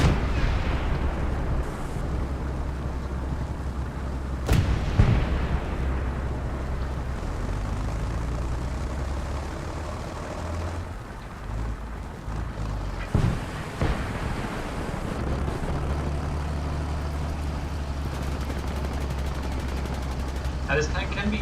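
In War Thunder, the Aubl/74 fires its main cannon amid gunfire: a few sharp booming shots and bursts stand out over a constant low engine and battlefield rumble, with a voice talking throughout.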